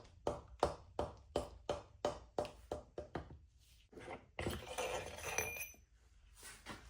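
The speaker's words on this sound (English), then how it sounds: "gentle tap." Gentle taps of a hammer or mallet on the main spindle of a century-old lathe headstock: a steady run of about ten sharp knocks, evenly spaced, then a rougher scraping clatter as the piece shifts.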